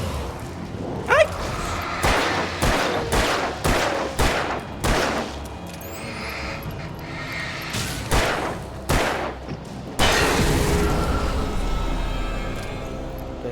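Gunfire in the video game Alan Wake Remastered, a series of loud sharp shots fired at an uneven pace, some in quick bursts, followed by a heavier blast and rumbling tail.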